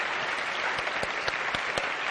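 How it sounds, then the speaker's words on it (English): Audience applause for two panel speakers at the close of a conversation event, a steady wash of clapping from a seated crowd with a few sharper individual claps standing out. "Let's please first give them a huge round of applause."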